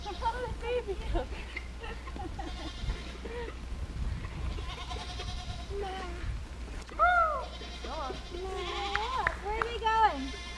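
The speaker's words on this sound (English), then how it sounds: "Oh, they're baby goats." Baby goats bleat in short, wavering cries at a country house with pasture and an electric fence. Several high bleats come near the end, over a low steady hum and people talking.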